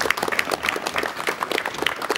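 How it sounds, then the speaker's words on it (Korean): A 1986 KBS television talk-show studio audience claps to welcome a historian guest for a year-end special: brisk, even applause from a sizable crowd, steady and close throughout. "여러분 박수로 맞이해 주시면 대단히 고맙겠습니다."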